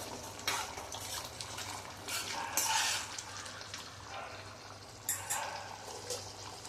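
Tamarind and brinjal curry bubbling in a pot over a medium flame, with spoon scrapes and stirring bursts rising and falling over a steady low simmer, close by and with no talking.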